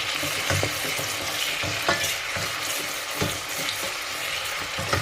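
Red onions sizzle steadily in a pan for a simple riz gras while a utensil stirs them, adding rhythmic scraping and soft knocks over the constant hiss.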